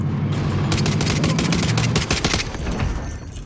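Rapid automatic gunfire from an MP5 in the Call of Duty Warzone video game, a loud sustained burst of shots for about two seconds followed by a few scattered rounds as it fades.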